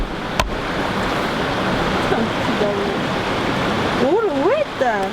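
Saut du Doubs waterfall roaring up close, a constant broadband rush of falling water filling the whole clip, with a voice briefly speaking over it near the end.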